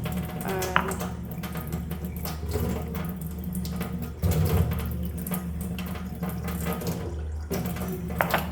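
A kitchen tap runs steadily for several seconds while cooking, a continuous close splashing wash of water into a sink, briefly cut off near the end and then resumed.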